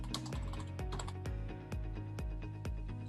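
Steady, close typing on a computer keyboard while an event type title is entered in scheduling software, with rapid continuous key clicks and a few louder strokes spread evenly over three seconds.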